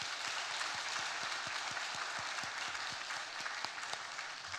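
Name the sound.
church congregation applauding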